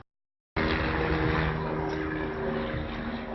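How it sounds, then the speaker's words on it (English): A helicopter passes overhead, cutting in suddenly as a steady, loud rotor and engine roar that holds evenly for a few seconds. "See a helicopter?"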